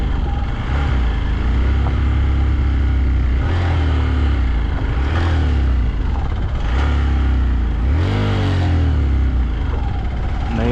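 An old bus engine on a mountain road runs loud and steady, with repeated revving swells while the first gear fails to engage, a continuous close, heavy drone throughout.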